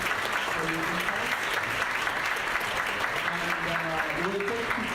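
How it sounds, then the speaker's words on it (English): An audience at a closing AI conference panel applauds the panelists, a dense, steady wash of clapping throughout, fairly distant in a large room. "a big round of applause for our panelists"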